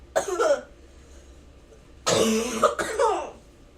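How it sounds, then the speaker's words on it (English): Two bursts of harsh, hacking coughs close by after a deep hit from a weed pen, the second fit longer and rougher, with a brief pause between them. "I'm coughing because I took a really deep hit from my weed pen."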